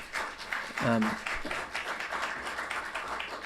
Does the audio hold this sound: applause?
yes